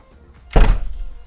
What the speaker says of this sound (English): Let me shut this door.